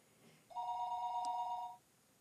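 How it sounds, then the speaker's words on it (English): A single telephone ring in the visual novel Higurashi When They Cry: one steady, electronic-sounding bell tone that lasts just over a second, clear and alone against a quiet background. "Just when I thought that, the phone rang."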